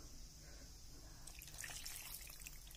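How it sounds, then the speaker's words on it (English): Half a cup of water poured into a pan of white sauce pasta, a soft trickling and dripping pour that grows busier toward the end over a steady low background hum. "I'm going to add half a cup of water"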